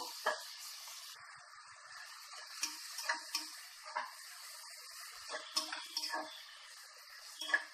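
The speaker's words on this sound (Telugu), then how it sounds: "ఈ ఉల్లిపాయల్ని కొద్దిసేపు బాగా ఫ్రై చేసేసుకుందాము" Onions frying with salt in a pan give a faint, steady sizzle with scattered soft ticks and clicks of stirring, quiet throughout.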